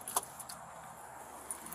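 Car keys jangle close by in a couple of quick metallic shakes, with a faint idling car engine humming underneath and no talking.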